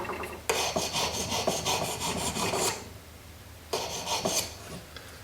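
Rhythmic rasping strokes of a file smoothing the sharp edges of a small Klingon bat'leth pin, a steady scraping run that stops for about a second before resuming briefly.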